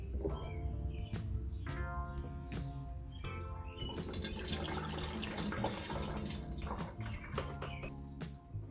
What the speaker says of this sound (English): So now I can get a funnel and pour the rest into the overflow tank.